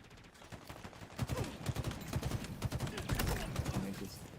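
Battle rifle gunfire in the shooter game Halo Infinite rattles off in rapid bursts of sharp shots, fairly close and continuous, with some game clatter mixed in.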